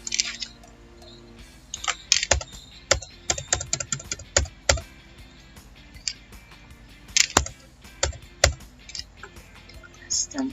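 Someone types on a computer keyboard while writing basic Java code. Key clicks land in irregular clusters with short pauses between them, close and distinct, over quiet room tone.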